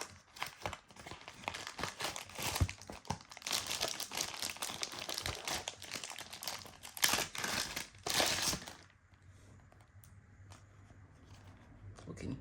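Loud crinkling and rustling of plastic packaging as a new Sony ZV-E1 camera and its accessories are unboxed, a dense run of crackles for about eight seconds before dropping to quiet.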